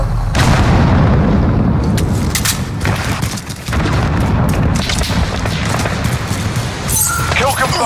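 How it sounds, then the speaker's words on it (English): A grenade going off in the shooter game Rust: deep booming blasts and rumbling crashes fill the whole stretch loudly, with scattered gunfire and voices talking over the chaos. "Grenade."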